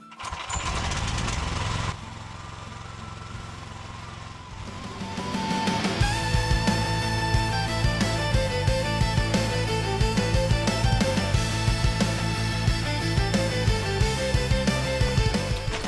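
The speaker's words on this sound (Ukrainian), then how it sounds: "Зараз проверяем, работает ли гидромотор. Подключил его к системе. Запускаем." A hydraulic motor connected to a machine's hydraulic system, driving chains on sprockets, starts with a steady low hum and then rises into a louder, sustained running drone with a fast rhythmic ticking.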